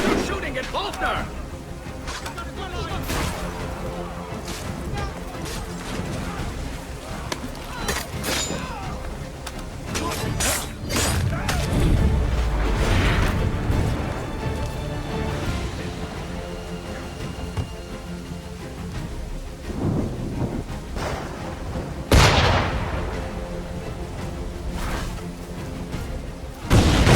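Sniper gunfire in Assassin's Creed 3 during a river escape, with sharp cracks and booming impacts scattered through a busy battle mix, the loudest burst late on, under shouting voices.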